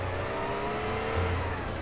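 A car engine revving hard in the game GTA MTA roleplay, a sustained loud, rough engine drone with a slight surge partway through, heard alone without talk.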